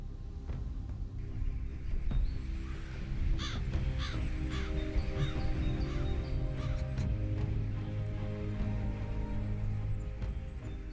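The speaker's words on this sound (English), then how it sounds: "For this murder of crows, it's a daily commute." A large murder of crows caws over Beijing in cold weather, many birds calling in overlapping, repeated harsh caws against a steady low background hum, fairly loud and continuous.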